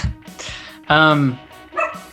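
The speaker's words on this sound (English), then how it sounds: "my dog. I'm the only one home, so he might bark." A house dog at home gives a few close, sharp yips and barks in quick succession, with short pauses between bursts.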